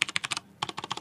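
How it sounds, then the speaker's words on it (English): A mechanical keyboard clacks in quick, crisp keystrokes, a burst of about six presses, a brief pause, then another rapid run of clicks, close and clear. "Don't mock my mechanical keyboard."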